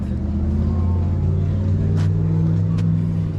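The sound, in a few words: old Pontiac car engine running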